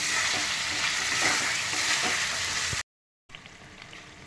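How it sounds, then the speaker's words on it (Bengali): Pieces of pointed gourd fry and are stirred in spiced oil, a loud, continuous close sizzle with soft scraping, then a brief dropout before a quieter stretch of frying resumes. "এবার আমি পটলগুলো দিয়ে দিচ্ছি পটলগুলো দিয়ে আমি ভালো করে কষিয়ে নেব"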